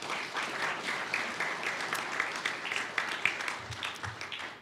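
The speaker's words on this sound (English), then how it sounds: "That deserves some applause, it does." Conference attendees at a policy forum applaud in a soft, even patter heard from a distance, steady throughout with no speech over it.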